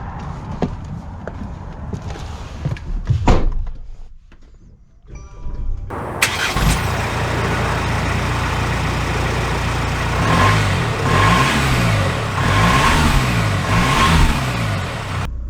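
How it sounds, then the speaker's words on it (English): A 2023 Mercedes Sprinter high output all-wheel-drive diesel van clicks and cranks, its engine catches and settles into a steady idle, then rises and falls through revs as it pulls away, heard close from inside the cabin. "Let's see how it drives."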